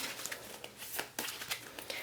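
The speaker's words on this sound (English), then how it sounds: "So I'm just shuffling to get a little bit of energy in here for you." Tarot cards are shuffled by hand on a desk in a steady series of soft, papery riffles and slaps, close by and fairly quiet, with no speech.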